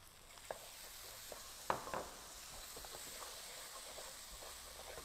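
Spice paste being stir-fried in oil for Malaysian village-style fried rice gives a steady low sizzle and hiss, with a few brief louder clinks or scrapes of stirring near the middle; no talking.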